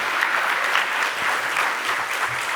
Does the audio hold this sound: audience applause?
yes